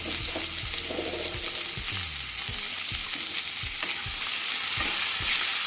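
Chopped onion fries and sizzles in mustard oil in a pan, with a steady hiss throughout and repeated stirring scrapes and knocks, close and fairly loud, no voices.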